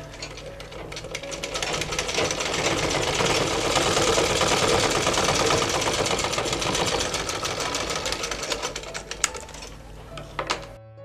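A sewing machine runs a side seam along a placket strip of fabric for a half-collar dress, its motor whirring steadily and loudly for most of the stretch before slowing and stopping near the end.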